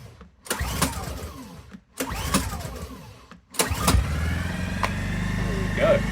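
Honda 10i generator being readied with the choke set: a few short pull-start bursts separated by brief pauses, then the engine catches and settles into a steady running hum nearby.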